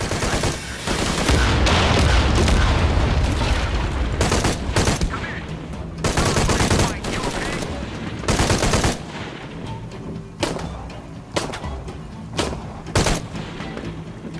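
Gunfire in the Shadow of the Tomb Raider video game, dense rapid bursts of shots and booms, loud and continuous at first, then thinning to sporadic single shots, with a voice briefly speaking.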